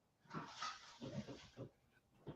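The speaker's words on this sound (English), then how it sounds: "got a dog situation going on?" A dog whimpers and whines in a few short, close, fairly quiet bursts with brief pauses between them, with no talking over it.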